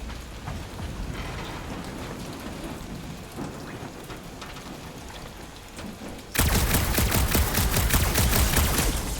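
Steady rain falls heavily throughout in a video game, then abruptly becomes a louder, denser downpour with crackling, rumbling intensity for the last few seconds.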